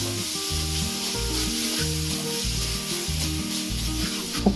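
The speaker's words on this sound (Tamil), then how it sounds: "உப்பு போட்டோடனே தக்காளி நல்லா வதங்கிச்சு பாருங்கள்." An onion and tomato mixture sautéing with salt in a pan for chicken noodles, giving a steady close sizzle with scraping stirring strokes and no voices.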